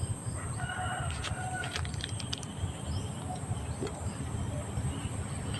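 Chickens cluck in short scattered bursts in a yard, with a faint rooster crow and low background murmur throughout, quiet and somewhat distant.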